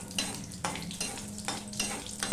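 Panch phoron spices frying in hot oil for a magur fish curry, a steady close sizzle broken by regular stirring scrapes about every half second, with no voices.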